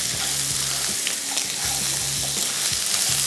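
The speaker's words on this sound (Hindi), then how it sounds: "इसको अब हमने भूनते चले जाना है।" Chicken and sliced onion frying in a pan, a dense continuous sizzle with regular stirring scrapes and knocks, close and fairly loud.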